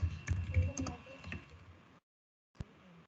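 Typing on a computer keyboard during a practical coding session, quick close clicks in a short burst, a pause of silence, then a single sharp keystroke.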